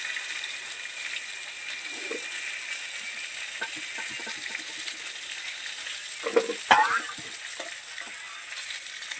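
Fish frying in a pan, a continuous close sizzle with brief louder spits and crackles partway through, and no speech.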